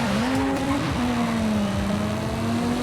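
A BMW M3 E92 or M5 E60 races through a cornering course in Forza Horizon 5, its engine holding a loud, continuous high-revving drone that dips slightly and climbs again.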